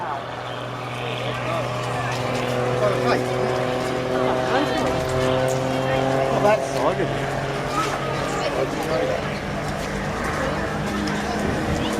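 An aircraft flying flat turns at an air show, its engine a sustained droning tone with wavering pitch, heard under continuous commentary throughout.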